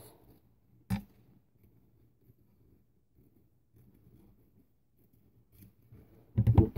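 Scissors cut through a two-ply paper napkin, with one sharp snip near the start, a quiet faint stretch of small rustles, and a louder close crunch of cutting at the end.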